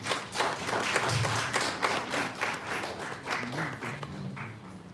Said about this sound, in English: With a round of applause, let's welcome him